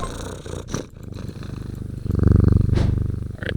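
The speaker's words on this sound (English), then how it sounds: "I hold him tight to my chest and he rubs my chin with the back of his head, purring with delight." A video game cat purrs in a close, steady, rumbling loop, the purr growing louder and fuller partway through the short sound effect.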